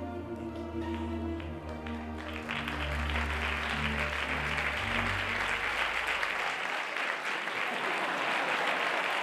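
Audience applause at a live magic act swells into dense, steady clapping from a crowd, loud and sustained, with a voice talking over the start.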